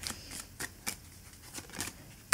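Chakra love tarot cards being shuffled by hand, giving soft, irregular papery riffles and flicks, faint and close, with a sharper snap at the end.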